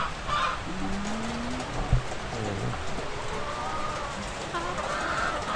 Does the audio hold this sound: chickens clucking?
yes